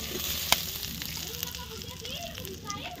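A large fish fries in a pan of plenty of hot oil, giving a steady, close sizzle throughout with a brief sharp crackle near the start and faint voices in the background.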